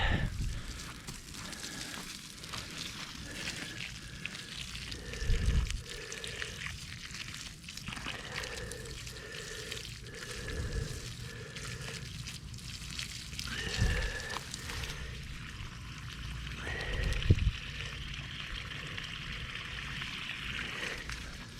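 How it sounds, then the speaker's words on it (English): Steady trickling and splashing of water runs throughout, with a few louder splashes and dull thumps, like a hose pouring onto the soil of a small moringa tree outdoors. "Let's water our little moringa tree."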